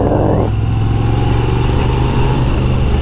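A Moto Guzzi motorcycle at an international rally idles at low revs through a loose, ragged exhaust, giving a loud, steady, deep rumble that stays close throughout.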